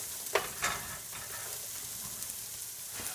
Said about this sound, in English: Okay, now we have our vegetables sweating down.